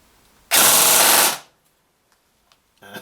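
A KWA QRF MOD.3 airsoft gun fires one loud, rapid full-auto burst lasting about a second, followed by a few faint clicks and handling noises.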